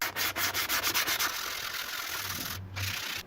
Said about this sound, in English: Just let the sandpaper do all the work.